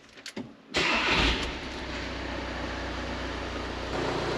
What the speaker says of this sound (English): So if we now start it up.